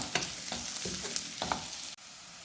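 Onions fry in coconut oil with crushed ginger and garlic, giving a close, steady sizzle broken by several rhythmic stirring scrapes of a spoon in the pan, then a brief cut in the sound near the end.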